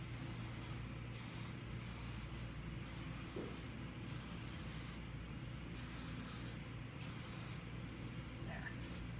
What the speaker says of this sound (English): And I'm going to shake my spray paint.